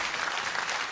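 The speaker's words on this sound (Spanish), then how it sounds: "Acá pongo así aplausos." A short burst of applause sound effect dropped into a Spanish-language podcast, a dense, even wash of clapping lasting about a second with no voices over it.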